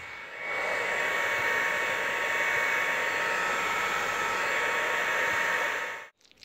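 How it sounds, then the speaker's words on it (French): A hair dryer on its hottest setting blows steadily over a freshly dyed leather seat, a loud, even rushing whoosh lasting about six seconds before it cuts off abruptly. "Donc j'ai passé 3-4 minutes de sèche-cheveux"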